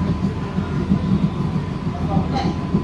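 A Bangaon-Sealdah AC local train runs from Madhyamgram toward Kolkata, filling the carriage with a steady low rumble and rhythmic rolling, while faint voices murmur underneath.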